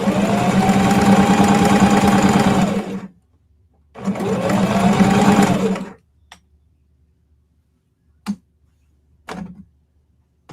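A sewing machine stitches jelly roll quilt strips in two loud, close bursts of rapid mechanical whirring, each about three seconds long. After them come a few brief clicks and short thumps, then quiet.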